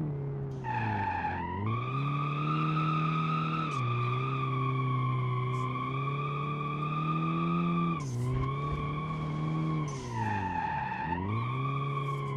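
Virtual car drifting on the Tail of the Dragon road in the driving game BeamNG, with tires squealing loudly over a steady engine drone that dips and surges in pitch through repeated slides, continuous and close.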